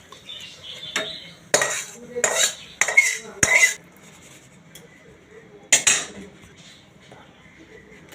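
Rohu fish curry is served out of a metal pan with a spoon, giving several sharp clanks and scrapes in short bursts between quiet gaps.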